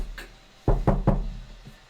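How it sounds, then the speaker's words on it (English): Knocking on a door as part of a tabletop role-playing game: three firm, evenly spaced knocks, close and fairly loud, with a faint fourth tap trailing after. "You go in and you do the knock of,"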